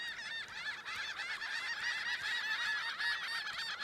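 Seagulls in the video game Divinity: Original Sin 2, a dense flock of raucous squawking calls overlapping continuously, loud and near, with no talk.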